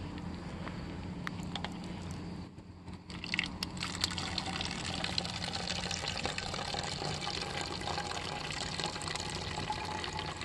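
Water runs steadily through a brand-new Sawyer Mini squeeze filter as a continuous close trickle and splash, with a brief dip partway before the flow resumes.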